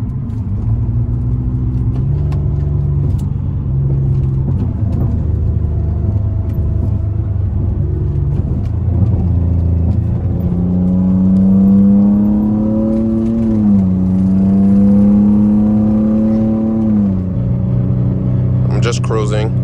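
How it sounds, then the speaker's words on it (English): A modded 2013 Nissan Maxima drives with a loud, close exhaust drone. Its pitch climbs and drops through upshifts and downshifts, and the engine revs rise and fall as it goes. "I like driving and listening to the exhaust, shifting, upshifting, downshifting, all of that."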